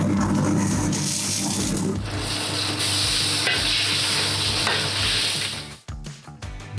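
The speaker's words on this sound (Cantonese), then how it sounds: "首先就將蝦放落去個鐵板嗰度，就知道冚聲啦" Shrimp laid on a hot iron griddle give off a loud, steady sizzle that hisses continuously and shifts slightly in tone, ending with a few clattering scrapes nearby.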